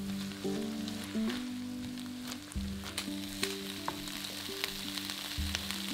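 Minced garlic, tomato puree and chopped red pepper chunks frying in a pot as they are stirred, a steady soft sizzle with occasional scraping taps, heard under a light tonal music bed with no speech.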